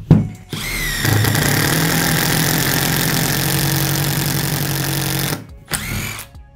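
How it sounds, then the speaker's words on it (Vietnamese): A Milwaukee M12 FID impact driver fitted with an 8 mm bit drills steadily for about five seconds, whirring and rattling loudly and close up, then winds down with a short final burst. "Xuống dưới thì nó đóng búa nhưng mà cơ bản là nó khoan khá là tốt nha anh em."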